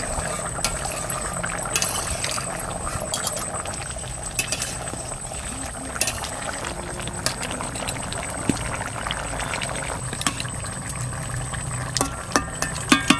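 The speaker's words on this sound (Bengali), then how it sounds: "এবার ঢাকনাটা একটু উঠিয়ে নাড়াচাড়া দিয়ে দেবো।" Fish and potato curry boiling in a covered pot while the lid is lifted and the contents are stirred: continuous bubbling and simmering with scattered clinks and scraping throughout, close and moderately loud.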